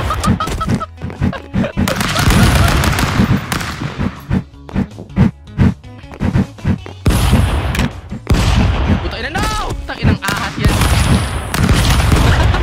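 Shotgun gunfire in the video game Stick Fight, loud punchy blasts repeating in quick irregular bursts with crashes and booms mixed in, close and dense throughout.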